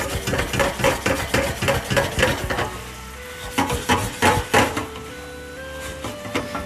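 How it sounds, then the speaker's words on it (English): Noodles tossed with a fistful of cheese are sautéed in a pan, with loud, close rhythmic scraping and clattering of a utensil over a soft sizzle, pausing briefly midway, no voices. "And then we're going to saute these all together."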